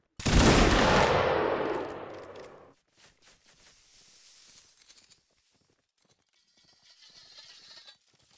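A loud massed volley of musket fire from a line of soldiers in a Napoleonic Wars line-battle video game, a dense crackling roar that fades over two seconds, followed by scattered quieter distant shots and shuffling.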